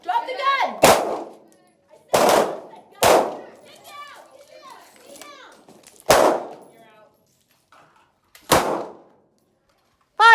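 Handgun shots at a ladies shooting class range, six sharp loud cracks spaced irregularly over about ten seconds, each with a short ringing decay, with brief spoken range commands between shots.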